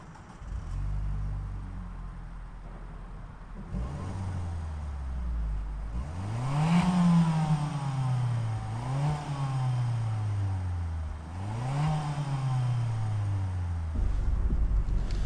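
A 2010 Peugeot RCZ with a 1.6-litre THP 156 hp petrol engine idles, then is revved three times in quick succession, each rise climbing and falling back to a steady idle, close and clear.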